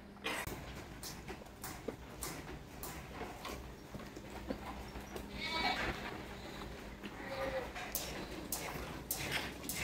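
Rare sheep breed on a farm in Malaysia, bleating intermittently amid a noisy pen where goats are also kept, with scattered animal calls over steady background clatter and murmuring voices.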